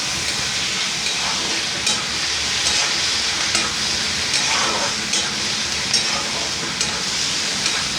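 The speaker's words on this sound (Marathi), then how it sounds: "आता त्याच्यामध्ये आपण एक टोमॅटो तो घालूया त्याच्यात आणि थोडीशी कोथिंबीर, पुन्हा परतायचं चांगलं।" Tomato and coriander sautéing in a pan over high heat, giving a steady, loud sizzle and hiss with soft stirring scrapes throughout and no talking.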